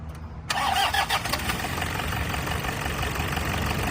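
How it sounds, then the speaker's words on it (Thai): A 2003 Toyota Tiger D4D cab pickup with a 2.5-litre diesel engine cranks and catches at about half a second, then settles into a loud, steady close-up idle with no talk. "ก็เลยเรามาฟังเสียงเครื่องนะครับ"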